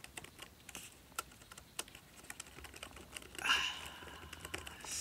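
Typing on a Dell Latitude laptop keyboard: quick, light key clicks in an uneven run, close and fairly clear, with a slightly louder flurry partway through and no talking.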